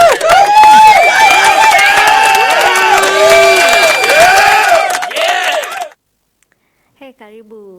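A studio audience cheers, whoops and claps loudly to welcome a guest onto a talk show, a dense burst of shouting voices that cuts off abruptly, followed by brief silence and a short voice.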